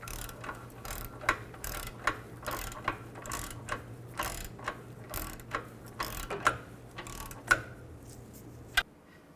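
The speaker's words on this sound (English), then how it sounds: "tighten these nuts up evenly and torque these to 37 foot-pounds" A ratchet clicks in quick, crisp bursts while tightening engine mount nuts on a 2000–2006 Chevy Tahoe, with the strokes coming in a steady rhythm close up over a low background hum.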